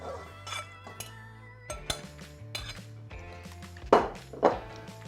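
Cherries drop into a saucepan in a home kitchen for Persian cherry rice, giving a series of light knocks and clinks against the pan, with two sharper clatters near the end.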